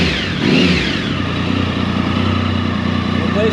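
A Triumph 1050 motorcycle engine runs steadily just after a cold start, with a dense, even mechanical throb and a brief swell near the start. It is loud and close.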